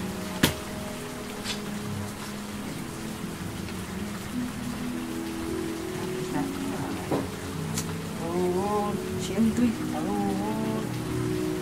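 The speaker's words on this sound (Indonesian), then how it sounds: "Itu udah hujan gede." Heavy rain pours steadily outside, a dense continuous hiss of drops on surfaces, while people talk intermittently over it.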